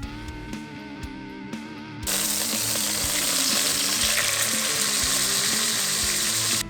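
Wild hare pieces sprinkled with herb-infused chili salt brown in a frying pan, with steady loud sizzling that swells sharply partway through and then holds a dense, continuous crackle, close up with no talking.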